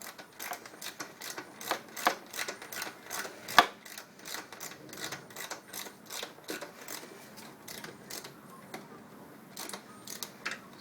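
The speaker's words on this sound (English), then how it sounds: "to remove our airbox now, and to do that you'll need a 10mm socket like so" A 10mm socket ratchet loosens the airbox bolts on a Suzuki GS500 motorcycle, making a rapid, steady series of close, light clicks that fade a little toward the end.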